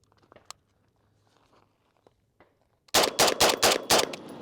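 Rapid rifle fire from a Tommy-built rifle in a video game, a loud quick string of about six or seven shots after a quiet stretch of faint footsteps and small handling clicks.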